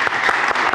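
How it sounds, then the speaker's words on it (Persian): Studio audience at a Persian talk show claps steadily, dense and loud, with no voices over it. "جاده رو واقعا تشویقش کنیم"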